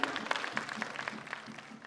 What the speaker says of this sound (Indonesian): berikan tepuk tangan yang meriah untuk acara siang hari ini